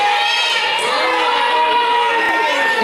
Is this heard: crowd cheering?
yes